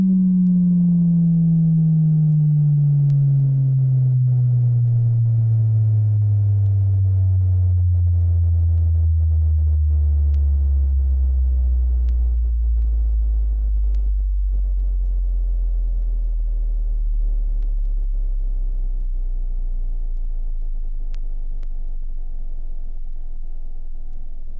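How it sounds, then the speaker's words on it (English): A right-channel steady test tone gliding downward from a CBS Laboratories STR 100 professional test record: a clean sine sweep falling smoothly and continuously from low-mid pitch into deep bass, steady and loud, alone with no talk. "Next is a right channel test tone followed by a right channel glide tone."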